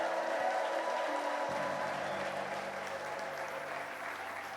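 A church congregation applauding and ululating, sustained dense clapping with a wash of crowd noise that holds steady and eases slightly toward the end.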